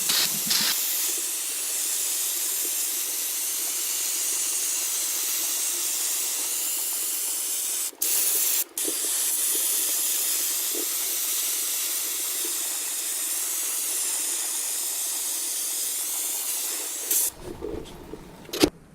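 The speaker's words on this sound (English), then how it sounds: "I bought a full can of brake clean specifically for this reason. Clean it all up." A long steady hiss of brake cleaner sprayed from an aerosol can onto a 2016 Polaris SKS 800 snowmobile chaincase, close and continuous, broken by two brief pauses and ending with some clatter.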